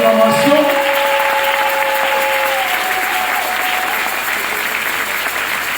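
A crowd at a church lay gathering breaks into sustained applause and acclamation, dense and loud, with cheering voices over the start and steady clapping for several seconds.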